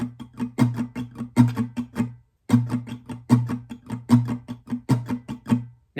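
A close acoustic guitar strums an optional pattern for the rap verses of a song (live version), with brisk, evenly driven strokes in two phrases separated by a short silent break.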